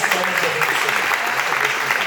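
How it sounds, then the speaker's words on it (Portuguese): Church congregation at a family service applauding a guest speaker, dense steady clapping close by with some voices underneath. "nós vamos recebê-la mais uma vez agora nas palmas"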